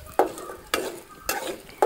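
Urad dal and chana dal fry together in coconut oil, with a soft sizzle under four evenly spaced scraping stirs of a spoon against the pan, close and fairly loud.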